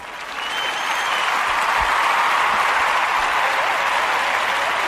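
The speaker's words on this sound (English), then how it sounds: "I want you to give a round of applause for Miss Stiletto." A crowd claps steadily, the applause swelling in over the first second and then holding loud and dense without letup.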